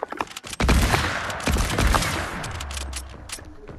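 Dense gunfire in the Fortnite video game, including a gold hunting rifle, cracks in rapid overlapping bursts and sharp single shots with a rumbling tail, loud and close and then thinning out.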